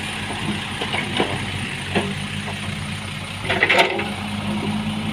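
A mini excavator idles with its engine and air conditioning running, giving a steady, close mechanical drone with faint clicks and a brief rattling burst partway through.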